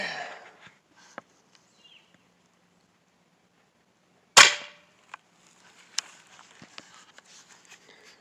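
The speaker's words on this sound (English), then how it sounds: "here's the rifle shot" A single sharp crack from a Hatsan Flash QE .25 air rifle fired at a board target, loud and sudden, followed by a few faint clicks and handling noises in an otherwise quiet setting.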